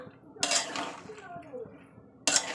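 Meat with potol and spices is stirred in oil in a pan with a spatula, giving faint clinks and scrapes against the metal. A voice murmurs quietly in the background.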